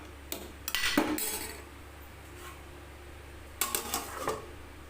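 Metal lid set on a cooking pot of spicy lima bean kuzhambu, giving two brief clusters of clinking, clattering metal knocks a few seconds apart, close and fairly soft over a steady low hum.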